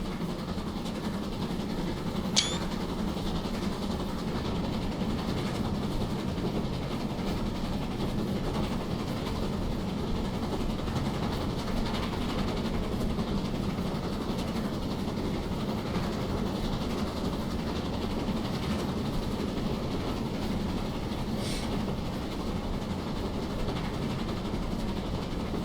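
A BR Saint locomotive from Victory Works runs steadily in Train Simulator, giving a continuous close rumble with rolling wheel noise and no voices.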